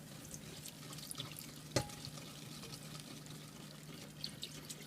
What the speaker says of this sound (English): I've added in my 2 cups of water, so total it's 4 cups of water